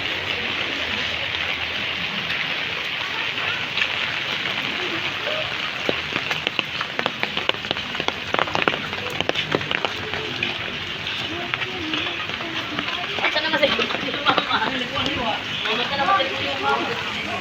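Steady rain pattering on a surface nearby, a dense hiss with scattered drip taps, and a person talking over it.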